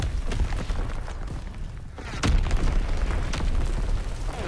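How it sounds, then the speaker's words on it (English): Artillery explosions crash through a Call of Duty WW2 battle, a steady wash of booms and bursts with one heavier blast standing out midway, loud and dense. "is the artillery ever gonna stop?"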